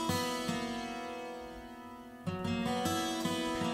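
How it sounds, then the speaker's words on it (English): A bright acoustic guitar lick rings out alone, with plucked notes repeating in a steady pattern and a fresh strum near the middle. "it's usually played by the acoustic guitar"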